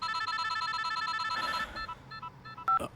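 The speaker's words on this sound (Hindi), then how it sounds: "श्री, फोन क्यों काट रहे थे तुम?" A telephone rings with a repeating electronic ringtone, loud and close, in a scene from a Hindi-dubbed Telugu romantic action movie. The ringing breaks off and is followed by a few short tonal beeps.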